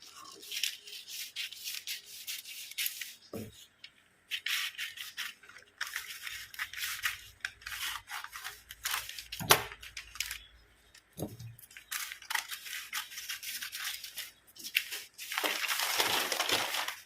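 Scissors cut through a paper shirt pattern for a loose-fitting top, giving a steady crisp crunching and rustling in repeated snips, with several sharp clicks and faint handling noises close by.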